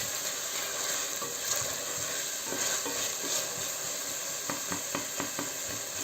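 Chopped meat for a pepper steak sizzles in a pan with a steady, fairly quiet hiss, punctuated later by a few light scraping and stirring clicks.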